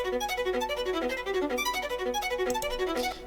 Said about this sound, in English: But then what I did is I added a solo violin